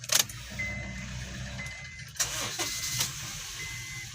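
A 2008 Honda CR-V engine cranks and catches after a remote-start command, with short bursts of starter noise and a low running hum, heard close with a few faint clicks.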